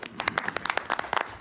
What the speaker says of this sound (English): What a round of applause for her.